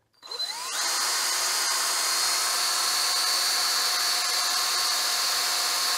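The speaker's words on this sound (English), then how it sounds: "I'm going to hang on to it so I can drill it" A power drill spins up from silence and bores slowly into a hand-held part for a DIY docking stick, settling into a steady, loud, high-pitched whine that continues for several seconds with no speech.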